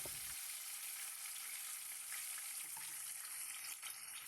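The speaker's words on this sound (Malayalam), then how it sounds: "എണ്ണ ചൂടാകുമ്പോൾ അതിലേക്ക് മീനെല്ലാം ഇതുപോലെ ഇട്ട് 3 മിനിറ്റ് നേരം ചെറുതായി ഒന്ന് ഫ്രൈ ചെയ്തെടുക്കണം." Fish frying in hot coconut oil, a quiet, steady crackling sizzle with a faint hiss running the whole time, no one talking.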